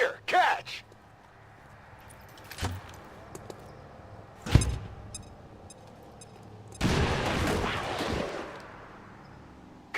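A frag grenade goes off in XCOM 2, a sharp close blast after scattered thuds and impacts, followed by a longer burst of crackling debris and rumble, with speech around it.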